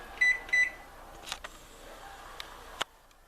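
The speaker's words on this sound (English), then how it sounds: "So throw the timer on for 20 minutes." A kitchen timer being set for 20 minutes gives two short bright beeps, then a few faint clicks of buttons, close and quiet in a still kitchen, no talking.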